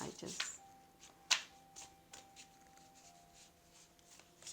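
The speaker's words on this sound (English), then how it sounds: "I love shuffling this deck." A deck of tarot-style cards is shuffled by hand, giving a few sharp riffling bursts and soft flicks at close range, with a faint steady hum beneath.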